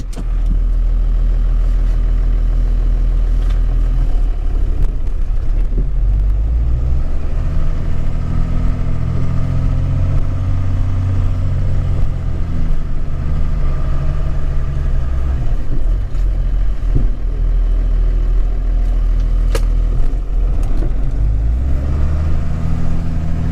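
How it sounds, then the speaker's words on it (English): A Cummins diesel-powered Excursion truck plows snow. Its engine is a loud, close, continuous low rumble that swells and eases as it works, with no talking. "So let's plow some snow."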